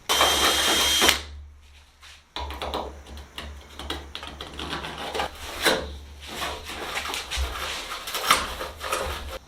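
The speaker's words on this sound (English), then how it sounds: "I'm going to use my step drill to do that." A step drill bores out a hole in an aircraft part for a Sonex fuselage tail cone, first whining steadily, then pausing before a stretch of uneven grinding, scraping and rubbing bursts at close range.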